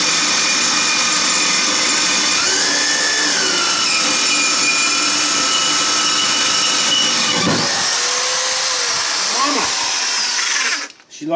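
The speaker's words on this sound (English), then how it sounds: "That's an awesome drill though" A power drill runs loud and close with a sustained high whine that shifts pitch as it bites into wood while building a removable tooth plate, then winds down and stops near the end.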